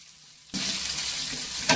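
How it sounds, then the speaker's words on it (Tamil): Chopped onions drop into a pan of frying garlic in hot oil. After a quiet moment a sudden, steady sizzle bursts up and keeps hissing close by. "பூண்டு பொரிஞ்சிச்சுப்பா. அது கூட இப்போ வெங்காயம் வச்சுக்கிறோம் இல்லையா,"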